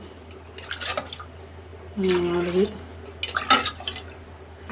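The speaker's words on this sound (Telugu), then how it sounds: "మనం ఎనిమిది గ్లాసులు వాటర్ పోస్తాం" Glassfuls of water tipped one after another into a pot of rice, short sloshing pours separated by pauses while a woman counts aloud.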